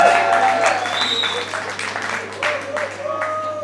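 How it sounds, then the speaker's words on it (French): Applause breaks out at a religious wedding, mothers clapping in a steady close patter, with voices and a few calls mixed in over it. "Sous les applaudissements des mamans"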